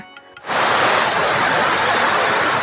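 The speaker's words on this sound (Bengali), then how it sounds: "আর একটা সুন্দর আওয়াজ পাচ্ছ তো, এটা কিন্তু জল" Water rushing across Murguma Dam, bursting in after a brief quiet moment into a loud, steady broadband roar of flowing water that fills the rest of the clip.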